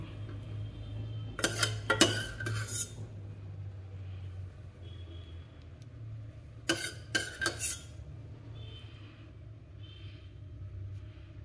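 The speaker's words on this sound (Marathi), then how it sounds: "ही भाजी मी आता सगळी पातेल्यामध्ये काढून घेते." Cooked brinjal vegetable curry being spooned from the cooking vessel into a pot, two short bursts of metal spoon clinks and scrapes against the pot over a low steady rumble, close and otherwise quiet.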